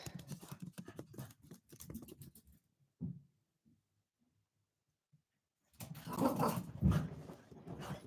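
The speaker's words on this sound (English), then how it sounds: "my dog's going crazy." A dog making excited, agitated vocal sounds in bursts, close by, with a quiet gap in the middle before a louder flurry near the end.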